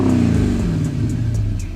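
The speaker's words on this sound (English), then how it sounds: "the best thing is the V8 sound that the era had to offer" A V8 car engine roars close by, its throaty pitch sliding downward as the revs drop, with a loud, steady rumble throughout the short burst.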